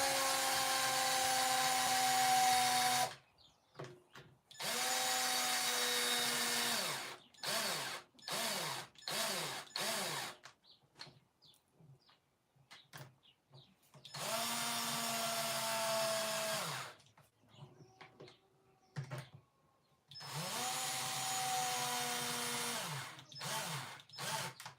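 A cordless drill drives screws into wood in a barn, with long whining runs broken by short stuttering bursts as its dying battery struggles, each run sagging in pitch, close and clear with no talking.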